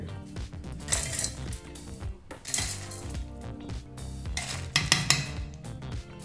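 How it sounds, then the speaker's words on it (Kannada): Roasted spices for idli sambar rattle and clatter as they are tipped into a mixer grinder jar, with irregular metallic clinks and scrapes up close and no talk. "ಅದಕ್ಕೋಸ್ಕರ ನಾವೀಗ ಈ ಪದಾರ್ಥನ ಒಂದು ಮಿಕ್ಸಿ ಜಾರ್ಗೆ ಹಾಕ್ಕೊಳ್ತಾ ಇದ್ದೀವಿ"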